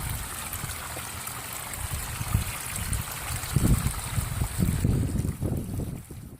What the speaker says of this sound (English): The only thing that cost any money was actually the pump for the waterfall or the creek.